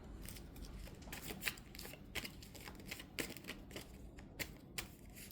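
A deck of cards being shuffled close by, soft and quiet, with repeated rapid riffling flicks and small pauses.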